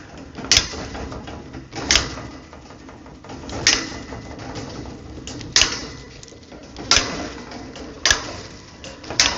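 A manual cutter snips through hog wire panel for deck railing in a steady rhythm, each cut landing as a sharp, loud metallic snap about every one to two seconds, with quieter handling clatter between them.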